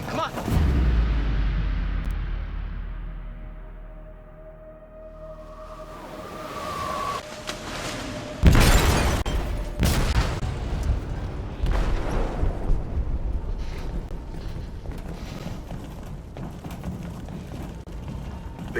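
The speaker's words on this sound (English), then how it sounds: "They detonated an explosive in the hold." A deep explosion booms through a ship's hold in the game Detroit: Become Human, a loud low blast followed by rumbling debris and a long settling roar.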